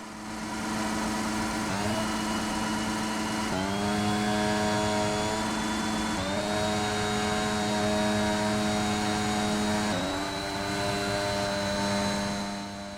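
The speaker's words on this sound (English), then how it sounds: "found a nice little spot just to do some donuts to celebrate" An F1 car doing donuts in the racing game F1 2021, its high-revving engine holding a loud, steady whine with repeated rises and falls in pitch as the revs swing through each spin.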